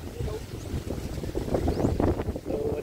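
Strong wind buffets the microphone beside a fish pond holding bangus, tilapia fry and crabs in drizzly weather, a continuous rough roar with gusty swells.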